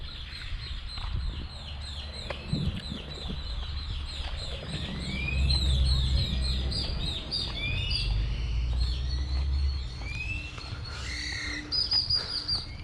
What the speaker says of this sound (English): Today it's mostly home to iguanas and talkative birds.